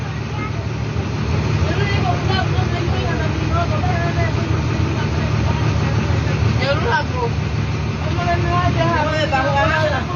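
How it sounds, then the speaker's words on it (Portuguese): An extremely overcrowded bus carrying deported children from Namibia to Angola rumbles with a steady, loud engine drone, with crowd babble and voices talking over it throughout. "Autocarro extremamente lotado deportando crianças pobres angolanas da Namíbia para Angola."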